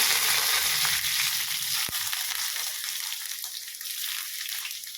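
Mustard seeds, curry leaves and ginger sizzling in hot coconut oil for a Kerala curd curry, a steady bright frying hiss that eases off slightly over time, with one sharp pop partway through and no talking.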